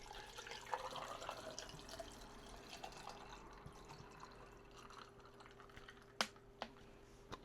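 Water runs from a tap into a water bottle, a steady rushing flow for several seconds that gives way to a few sharp drips and clinks near the end, close and fairly quiet.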